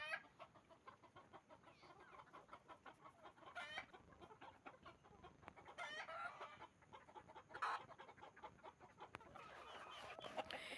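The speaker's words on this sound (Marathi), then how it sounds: "समोर अशा कोंबड्या आहेत." Several free-range country chickens clucking at a distance on a poultry farm, with scattered short calls overlapping in an irregular rhythm over a quiet outdoor background.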